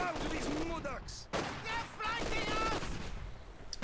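An MG42 machine gun fires suppressing bursts in a Company of Heroes 2 battle, with dense, rattling gunfire and explosions underneath a commentator's excited speech that runs through most of the moment.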